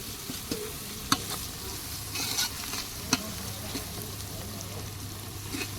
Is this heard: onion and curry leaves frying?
yes